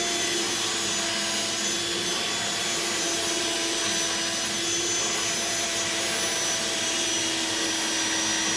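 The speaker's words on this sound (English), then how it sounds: "I've got a little grinder here. And what I'm going to do is kind of fine-tune this hole a little bit" A small rotary grinder enlarges and rounds out a hole in a guitar body, whining at a steady, loud pitch throughout with a faint rasp of material being removed and no talking.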